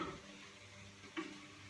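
Onion and curry sizzling quietly in a pan while being stirred, with a couple of soft scraping strokes, close but faint.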